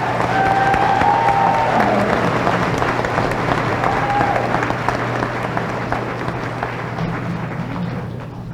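Sustained audience applause at a college commencement ceremony, a steady wash of many hands clapping in a large venue that holds level throughout and eases only slightly toward the end.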